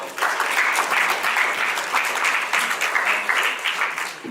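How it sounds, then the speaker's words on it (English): Audience members at a Kansas City mayoral candidates forum clap together in a dense, lively round of applause that holds steady and close for several seconds. "So I would like to just give a round of applause to Mr. Glover."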